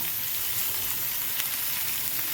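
Steady, close frying sizzle of snake gourd upperi stirred in a pan, a continuous broadband hiss with faint crackles and no talk.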